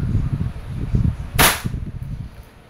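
A WE 5.1 Type R airsoft pistol fires one sharp crack on semi-automatic, loud and close, over low rumbling background noise.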